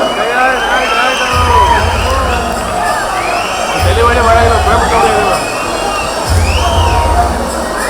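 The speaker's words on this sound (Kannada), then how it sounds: "ವಿಜಯಣ್ಣ ಅವರಿಗೆ ಒಂದು ಜೋರಾದ ಚಪ್ಪಾಳೆ ಬರಲಿ" Crowd cheering, whooping and shouting loudly at a 51st birthday celebration for HN Vijay in his home village, with a dense, steady roar of many voices and a low rumble underneath.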